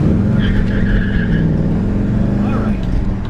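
A 1964 Ford Galaxie 500 with a 427 and four-speed has its tires breaking loose, a steady close engine roar with a brief squeal of tire scrub riding over it, heard from inside the car.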